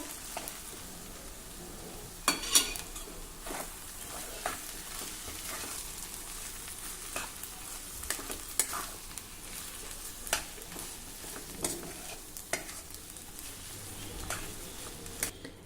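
Chivai greens with ground toor dal and salt being stirred and mixed in a kadhai, giving soft scraping and tossing strokes over a faint, steady sizzle, close by with no voices.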